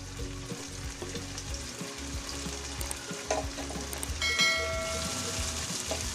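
Tofu frying in a pan until golden brown, a close, steady sizzle and crackle of hot oil with a few faint clinks, continuous and moderately loud with no talking.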